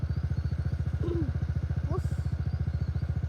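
A scooter's small engine putters with a fast, regular chug at close range, with brief voice sounds over it, as the scooter labors over a rough, rocky off-road track along a stream bed.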